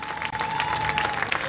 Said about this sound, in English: A round of applause for Tero.